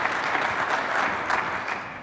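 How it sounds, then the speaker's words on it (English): A conference audience at a military symposium applauds after a fireside chat. The clapping is brief and steady at moderate loudness. "Let's give him a round of applause."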